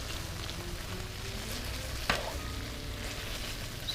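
Meatballs sizzle steadily in a pan while being stirred, a soft continuous frying hiss with a single sharp scrape or clack partway through.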